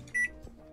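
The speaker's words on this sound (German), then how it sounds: "Hau den in die Mikrowelle." A microwave oven heats a prepared egg burger in a kebab kitchen, giving a steady close hum with a brief, louder tonal whine partway through.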